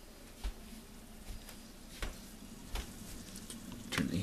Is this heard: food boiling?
yes